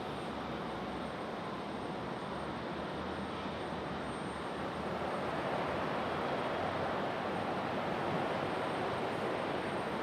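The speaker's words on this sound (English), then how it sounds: "Got a Delta connection CRJ on the move." A Delta Connection CRJ jet taxiing at Raleigh-Durham airport on a stormy day, a steady broad engine roar and whine, fairly distant and unchanging, with no speech.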